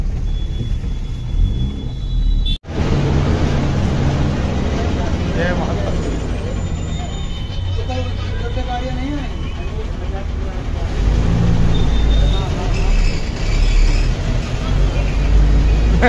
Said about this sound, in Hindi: अब यहाँ से पकड़ेंगे बस और पहुंचेंगे पुरानी दिल्ली रेलवे स्टेशन